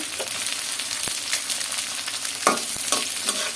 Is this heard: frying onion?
yes